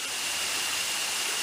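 The waterfall at the Waterfall Villas pours in a loud, steady, hissing rush that fills the whole moment without any talking.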